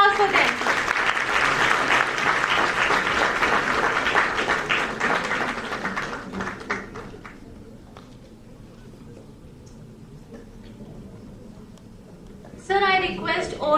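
Audience at a national moot court valedictory ceremony applauds the winners loudly for about six seconds before the clapping fades into room murmur, then a voice speaks over a microphone.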